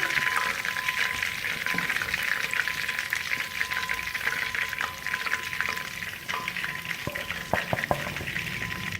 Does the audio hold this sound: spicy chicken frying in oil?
yes